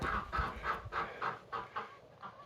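Homestead chickens near the coop cluck in a rhythmic series of about eight loud, close pulses, a steady fowl chatter with no talking over it.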